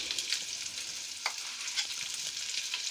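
Beef steak bites frying with fresh buffalo-milk butter in a pan give a steady, close, bright sizzle with small crackling pops and a few faint utensil touches, no talking.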